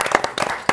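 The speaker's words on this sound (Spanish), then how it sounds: "Los aplaudimos." A television studio audience claps in a short burst, several distinct, close claps in quick succession.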